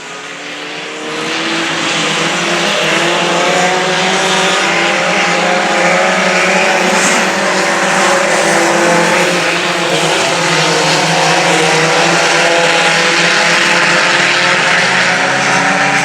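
Super late model race cars roar loudly around a racetrack, a dense sustained engine howl that swells in after a moment and stays full, with layered revving as several cars pass close together.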